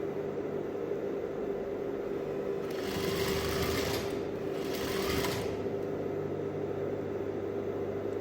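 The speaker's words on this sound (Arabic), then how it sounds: "انا كنخيط وكندفع" A sewing machine stitching trouser fabric runs with a steady mechanical whir, close by, swelling louder in two bursts of faster sewing before settling back to an even hum.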